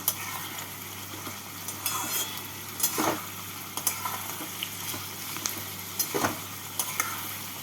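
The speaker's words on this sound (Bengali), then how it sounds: "পেঁয়াজগুলোকে লাল করে ভেজে নেব এই পেঁয়াজের মধ্যে অল্প নুন দিয়ে দিচ্ছি" Onions frying in oil with a little salt while a chicken curry is made, a steady close sizzle broken by several sharp stirring scrapes and clinks.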